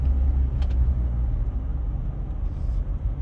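A GWM Poer 300 diesel pickup drives over a bumpy, uneven road, its low steady rumble of engine and road noise filling the cabin, with faint brief knocks from the suspension over the rough patches.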